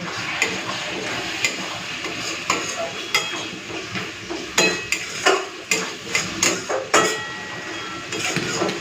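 A spoon scrapes and stirs spice paste with salt, a little sugar and water in a frying pan, giving a quiet bed of sizzling and a run of irregular clacks and scrapes against the metal.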